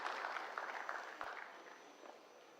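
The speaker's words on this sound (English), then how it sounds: "Can we have a round of applause and welcome Dr. Roon?" Audience applause in a hall at an IIM conference welcoming a speaker, a steady wash of many hands clapping that slowly fades over a few seconds.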